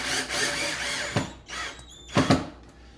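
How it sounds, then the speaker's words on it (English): A power drill drives supplied screws through a laminate reducer track into the subfloor, with short whirring bursts around a second apart, a single burst followed by a doubled one, close by and moderately loud. "I'm going to secure my track to the floor, the subfloor, with the supplied screws"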